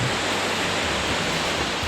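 Jaein Waterfall pours between basalt columns in a river gorge, a steady, loud broadband roar of falling water with no other sound.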